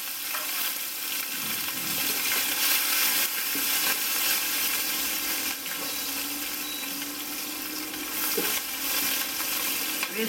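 Chopped ginger and green chillies fry in a pan for a jackfruit kheema curry, giving a steady, loud broadband sizzle throughout with occasional stirring scrapes and no talk.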